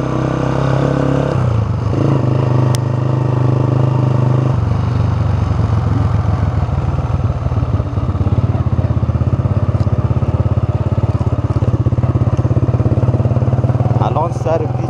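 Pishtaz 125cc motorcycle at higher speed, its engine droning steadily and loudly with a rising note, mixed with wind and road noise throughout.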